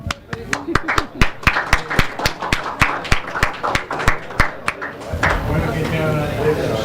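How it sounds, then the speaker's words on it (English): Clapping at an SPE Thailand monthly technical meeting, sharp separate hand claps from a small audience in a fairly steady rhythm, fading into a softer, dense patter near the end. "And of course, another loud applause for our generous sponsor"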